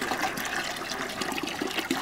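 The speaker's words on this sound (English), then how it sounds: "you take your bucket full of water and you put it in your machine" Water from a bucket poured into a cement mixer holding a sand and cement batch, a steady rushing, splashing pour lasting about two seconds with no talk over it.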